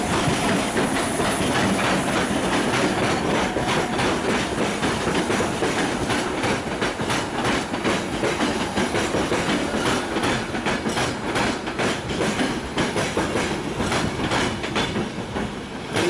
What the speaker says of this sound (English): There's a MAV train hauling Gisev coaches.